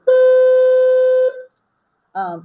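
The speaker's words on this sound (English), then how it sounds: "wait till the bell's done ringing" School bell sounding as one steady electronic tone for about a second, loud and clear, then a short higher chirp after a pause.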